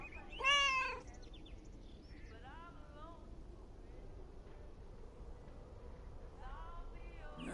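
A cat meows once, loud and close, in the video game Lake, followed by softer chirping vocal sounds over a quiet ambient background for the rest of the stretch.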